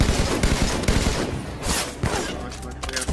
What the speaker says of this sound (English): Oh, classic Halo 2 battle rifle.